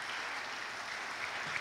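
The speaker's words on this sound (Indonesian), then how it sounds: "Kita beri tepuk tangan buat jawabannya." An audience at an investment talk breaks into applause, a dense, steady clapping filling the room from start to finish without any voices.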